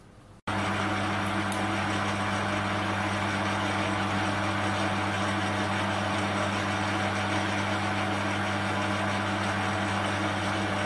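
A cheap Chinese lathe running smoothly after cutting spur gears, giving a steady, even motor hum with strong low tones that holds constant from start to finish without shake or rattle.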